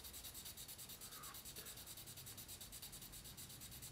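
Charcoal drawing pencil scratching on paper, a steady, close, abrasive rubbing that continues throughout without pause.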